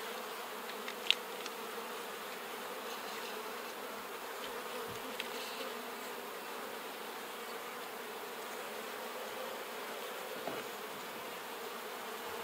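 Honey bees crawl and hum on hive frames holding pollen, nectar and brood, a soft continuous buzzing drone close by, with a few faint ticks and bumps from the frames.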